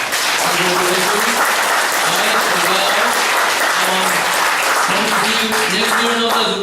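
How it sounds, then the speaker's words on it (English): A room full of people claps steadily at a Taiwanese American community scholarship award ceremony, honoring the winners; dense, sustained applause throughout, with voices and cheers mixed in underneath. "Let's all give them another round of applause"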